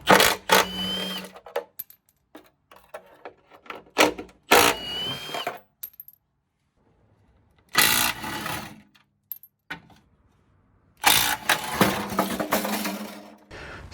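A Milwaukee M18 Fuel 3/8-inch compact impact wrench rattles loosely through several bursts as it removes fasteners, each hammering run lasting a second or two and separated by pauses and soft handling clicks.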